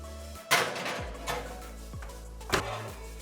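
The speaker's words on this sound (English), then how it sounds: "Time to pop this in the oven" Kitchen sounds as a baking dish of gluten-free, dairy-free mac and cheese goes into the oven: a sharp clatter, then a few softer knocks and a final bump of the oven door, with a steady low oven hum underneath.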